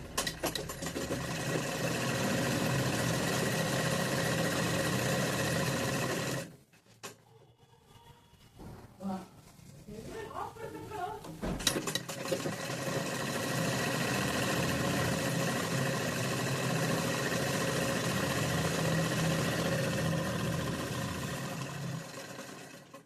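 A sewing machine stitching a patiala pant hums and rattles steadily up close, stops for a few seconds of quiet handling noises, then starts again and runs continuously.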